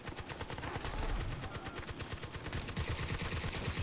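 Rapid automatic gunfire from the Xbox 360 shooter Crysis 2 in multiplayer, a dense, loud, continuous stream of shots with no pauses across the whole stretch.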